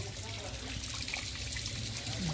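Water trickles and pours down from above in a garden full of plants, a steady, close stream splashing continuously with no pauses.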